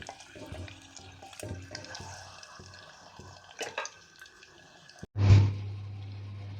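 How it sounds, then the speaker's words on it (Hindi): An egg frying in hot oil inside a handi pot, a soft crackle and sizzle under clinks and stirring, then a loud sudden burst of sizzling near the end that settles into a steady hiss. "ये देखिए फ्रेंड्स, हांडी के अंदर हमारा अंडा हो रहा है फ्राई।"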